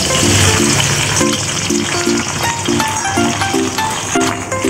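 Curry leaves fry in coconut oil over a low flame, giving a loud, steady crackling sizzle close by, with a background of repeating tonal notes that sound like music.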